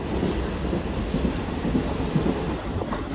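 A local passenger train running steadily, with a continuous low rumble and faint rhythmic rattling of the carriages throughout, close and even in level, with no talk.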